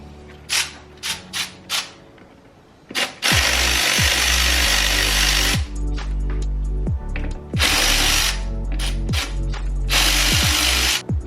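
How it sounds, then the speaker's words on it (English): A power tool loosening clamps and removing the intake piping on a Mercedes CLS 550. A few short whirring bursts lead into long, loud buzzing runs with ratcheting clicks, all heard close with brief pauses between. "After you loosen your clamps, what you want to do is remove the intake piping, which is very easy."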